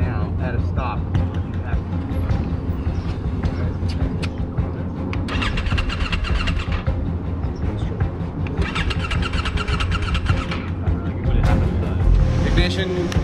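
A 2023 CFMOTO Ibex 800T motorcycle engine cranks over and settles into a steady idle, a low throbbing rumble with bursts of higher mechanical chatter, close by, with a voice speaking over part of it.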